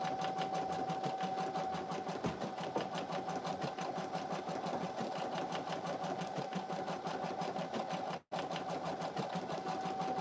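Embroidery machine stitching an in-the-hoop lip balm holder, a steady fast mechanical needle rattle with a constant whine, continuous and close with one brief dropout near the end.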